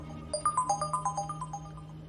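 A phone ringtone plays a quick melodic pattern of bright electronic beeps, repeating rhythmically over a low steady hum, fairly soft and close.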